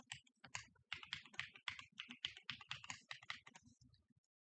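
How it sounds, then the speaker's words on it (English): Quick, steady keystrokes tap out a password on a computer keyboard during a Proxmox VE install, about a dozen close, crisp clicks in an even run before stopping. "just type a password you're going to easily be able to remember"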